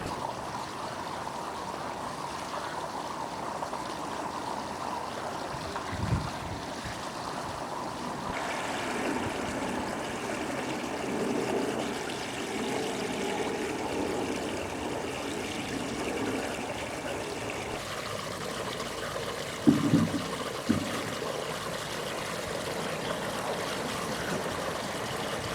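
Water from a koi pond filter, pumped at just over 2,000 gallons per hour by central heating pumps, trickles and flows steadily at moderate volume with a constant background hum and a few faint knocks.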